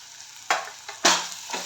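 Green chillies and salt sizzle loudly in a hot pan as they are stirred, the frying swelling in a few bursts with each turn of the spoon, close and with no talking.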